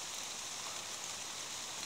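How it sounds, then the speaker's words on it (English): Steady falling rain forming a dense, even hiss with no distinct drops or pauses, filling the scene alone without voices. "Gosh, when's this rain gonna stop?"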